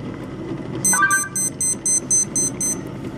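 A kitchen timer alarm goes off on a stovetop while eggs boil, sounding a rapid series of about eight bright, evenly spaced electronic beeps, close and clear over a low hum of background noise.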